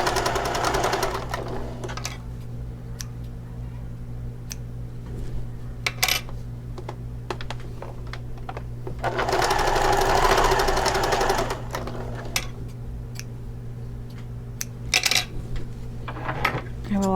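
A sewing machine stitches a zipper seam up close, its rapid mechanical chatter running steadily with a louder burst midway, small clicks and clatter around it and a steady motor hum.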